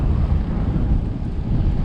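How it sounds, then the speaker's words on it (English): Strong wind rushes past while riding a Trek Domane road bike, a steady, loud low roar of wind buffeting the microphone throughout the short stretch. "It's super windy."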